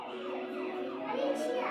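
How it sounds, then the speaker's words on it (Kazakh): An ambulance siren wails in a rising and falling tone, fairly faint and brief, with children's voices mixed in around it. "Жедел жәрдем көлігі."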